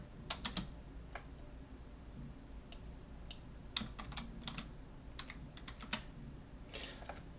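Fingers typing on a computer keyboard in uneven bursts of clicky keystrokes with short pauses, against a steady low background hum.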